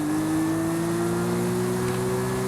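A Porsche 911 GT3 RS (992) with race exhaust in Forza Horizon 5 pulls hard, its engine note a loud steady howl rising gradually in pitch as it accelerates through the gear.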